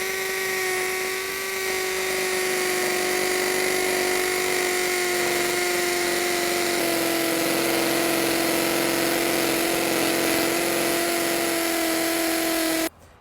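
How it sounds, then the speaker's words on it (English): A GSB drill with a 13mm bit bores into masonry, a loud, continuous high whine with steady motor tones, cutting off abruptly at the end. "Now we're going to test the GSB into the masonry"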